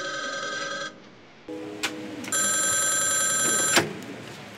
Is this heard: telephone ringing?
yes